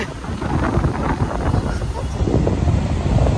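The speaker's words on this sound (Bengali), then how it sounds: "প্রচণ্ড হাওয়া দিচ্ছে, হাওয়াতে কি হচ্ছে দেখ" Strong wind blowing at the seashore in Puri, buffeting the microphone with a constant low roar and gusty rumble close up, surf faintly beneath.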